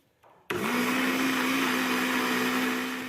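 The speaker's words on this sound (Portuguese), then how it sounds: "eu vou colocar aqui dentro do liquidificador. E agora é só bater." An electric blender starts abruptly and runs with a loud, steady whirring drone as it blends mastruz leaves with a glass of milk, holding an even pitch after a brief quieter start.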